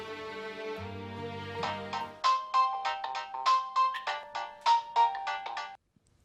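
An electronic phone ringtone plays in a Pakistani drama scene, a bright melodic tune of rhythmic repeated notes that rises and then cuts off abruptly to silence.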